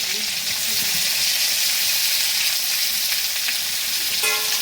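Bay leaf, onion, tomato and green chili frying in hot oil for an egg and cauliflower curry, a loud, continuous sizzle with faint stirring and no talking.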